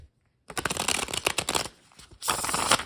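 A deck of slightly warped Kem plastic playing cards is riffle-shuffled up close: a crisp, fluttering burst of card edges, a short pause, then a second quick riffle.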